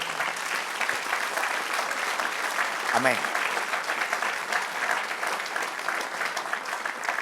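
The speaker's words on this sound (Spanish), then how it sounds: "Dar un aplauso al Señor." A church congregation breaks into sustained applause during a service, a dense wash of clapping that runs throughout while a voice calls out briefly in the middle.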